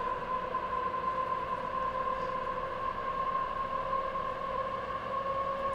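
A Class 90 electric locomotive accelerating in the game Train Sim World, giving a steady, even traction whine with a sustained tonal hum and no talking.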